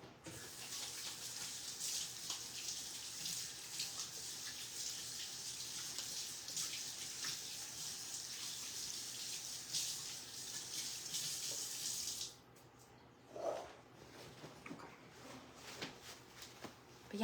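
A kitchen tap runs steadily for hands being washed, a close rushing hiss of water for about twelve seconds, then it shuts off and faint handling noises and a soft voice follow.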